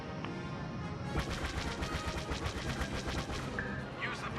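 Proton torpedoes launch from a starfighter in Star Wars Battlefront as a rapid string of sharp blasts over a steady roar of engines and ambient battle noise, moderately loud and sustained.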